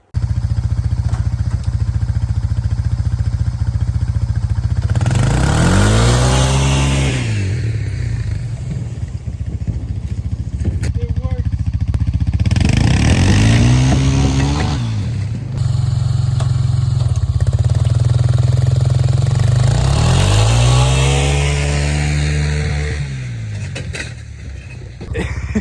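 A four-wheeler engine pulls a homemade boat sleigh, revving up in three strong surges that rise and fall in pitch over a steady close idle, loud and alone without talk.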